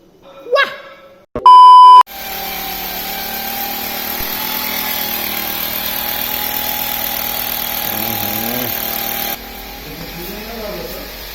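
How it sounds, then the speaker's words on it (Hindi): Electric drill boring a drainage hole in an old house, with a brief beep and short burst at the start, then a long steady motor whine that drops off near the end; voices break in briefly. "अभी हम लोग को ड्रिल करा लेते हैं इसका"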